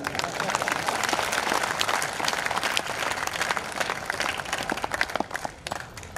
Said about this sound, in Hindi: जब सम्मान हो जाए तो ताली बजा देना